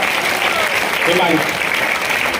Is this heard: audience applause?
yes